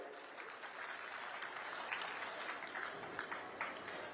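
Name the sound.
crowd applauding at a political rally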